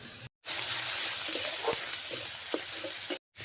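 Fish fries in a pan with garlic and ginger paste, a steady close hiss and sizzle with faint stirring clicks, cut off briefly at both ends.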